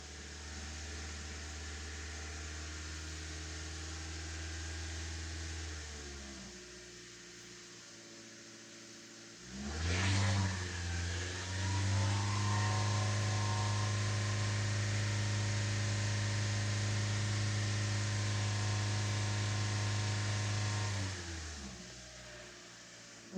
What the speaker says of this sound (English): Just raising the RPM slightly.